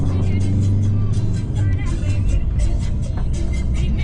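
Colectivo minibus on the road to Cusco in Peru, a steady loud engine rumble and road noise from inside the moving vehicle, with faint voices in the background.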